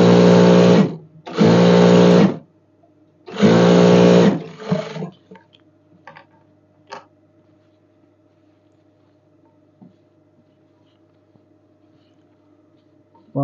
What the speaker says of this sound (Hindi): ये फ्रंट पट्टी, तो हम इसको एक कच्ची सिलाई लगा देंगे।